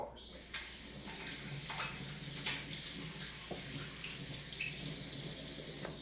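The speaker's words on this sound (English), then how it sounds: "I'm just gonna wash everything and just leave it aside" A kitchen tap runs steadily while espresso equipment for a Gaggia Classic Pro is washed in the sink, close water gushing and splashing with small clinks, and a voice speaks briefly over it.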